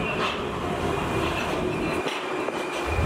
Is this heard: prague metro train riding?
yes